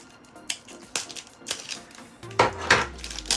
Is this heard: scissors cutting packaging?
yes